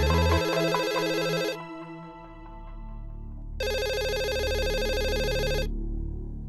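A landline telephone rings in two loud, close electronic bursts separated by a pause of about two seconds, with a low hum underneath and no talking.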